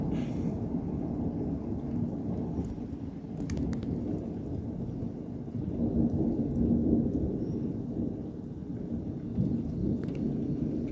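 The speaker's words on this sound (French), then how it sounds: "maintenant l'orage est là" Thunderstorm on a May evening: steady rain and rumbling thunder roll on together, with a louder swell of thunder midway and brief crackles, dense and continuous, no voices.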